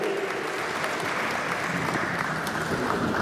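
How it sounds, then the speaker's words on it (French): Dense, steady applause from a large crowd at a funeral, honoring the Congo representative, continuous and even in loudness throughout with no gaps. "Applaudissons très fort pour le représentant de Congo"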